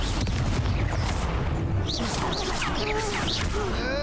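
Confringo blasting spells explode in the video game Hogwarts Legacy: loud booms and crashes with swishing whooshes and shimmering magical tones in a busy combat mix, with faint voices underneath.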